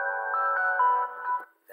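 A harsh resonant ringing tone in a music track, a steady pitched whine lasting over a second before cutting off, loud and sustained.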